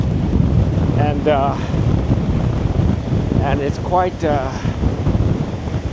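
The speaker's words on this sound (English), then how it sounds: "Obviously, you don't feel the wind, but I think you can hear it." Wind blows hard on the Oregon coast at Astoria, buffeting the microphone with a continuous low rumble and rushing gusts while someone talks briefly over it.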